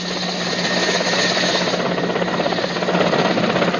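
A helicopter on a rescue operation, a steady rotor chop and engine drone, loud and continuous, growing slightly more pulsing toward the end.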